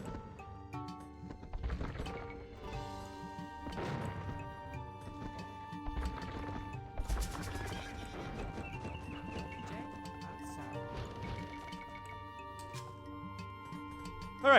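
A horse rider unit in the video game Age of Conquerors: cartoonish hoof clip-clops and a whinny over a busy game soundscape with a layered musical score and scattered impacts.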